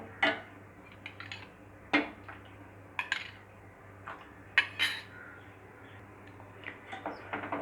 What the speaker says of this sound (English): just stir the milk until the curdling takes place